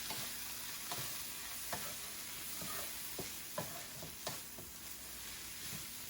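Soft continuous sizzle of pav bhaji masala frying in a pan with a spoon repeatedly scraping and stirring through it, irregular clicks and knocks against the pan, close up.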